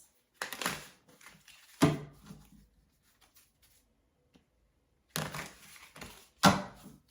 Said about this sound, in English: Get 3 shuffles.